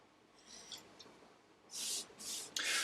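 A soft synthetic-bristle brush strokes Danish oil over an acrylic painting, giving faint swishes followed by three louder, close brushing sweeps near the end, with no voices.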